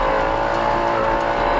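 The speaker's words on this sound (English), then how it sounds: "Mr. Mal realizes that something isn't right with his Can Am Maverick Turbo" A two-seat Can-Am Maverick Turbo off-road racer runs through the Nevada desert at the Mint 400 with its turbo lost and header pipe broken, a loud continuous engine drone and rough mechanical rumble filling the whole short stretch.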